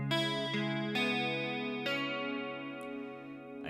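A guitar picks individual strings across a held chord in a fingerpicked pattern, a few clear plucked notes ringing into each other, close and clean, with no talking.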